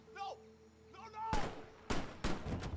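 Loud gunshots in a video game, three sharp blasts about half a second apart following a stretch of tonal game sounds and faint voices, each shot leaving a short rumbling tail.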